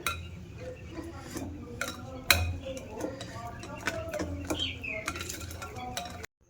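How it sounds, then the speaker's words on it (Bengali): A spoon mixes cocoa powder into chocolate cake batter in a bowl, giving soft irregular scraping and stirring with sharp metallic clinks against the bowl, fairly quiet and close. "কোকো পাউডার দিয়ে ব্যাটারটা বেশ ভালো করে মিশিয়ে নিয়েছি"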